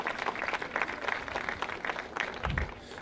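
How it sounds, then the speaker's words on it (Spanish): Brief burst of clapping from an audience, a short round of applause at moderate volume. "Por favor, un aplauso."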